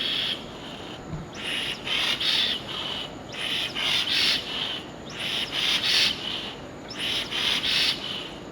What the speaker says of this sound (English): Here's our very first test to spin over the engine